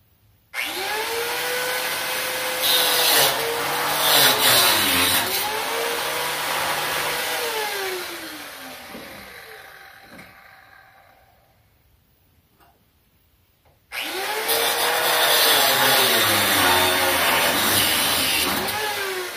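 A grinder runs loud and steady for about nine seconds, winds down into quiet, then starts up again at full power; it is used on a steel sleeve and bushing while a Rough Country N3 front shock is installed on a Chevy Silverado.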